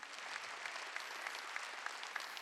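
A church congregation claps together during a worship service, a dense, steady wash of hand claps with regular rhythmic accents roughly twice a second, close and continuous with no talking.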